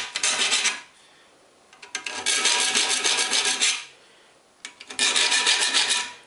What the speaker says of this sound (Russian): Обычно на заточку такой ножовки уходит трехгранный напильник вот такого плана.